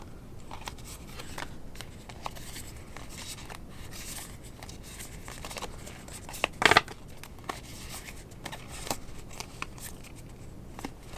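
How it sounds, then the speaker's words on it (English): Rubbery tarot cards being shuffled by hand, a soft continuous riffling and patting with a brief louder flurry of card snaps partway through, close up, with no talking. "Sometimes these are hard for me to shuffle."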